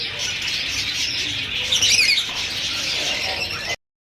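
A pair of pet Rainbow lory birds give shrill squawks and chirps over a steady hiss of background noise, with one louder burst of calls near the middle before everything cuts off.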